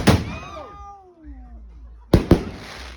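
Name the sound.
fireworks exploding loudly outdoors at New Year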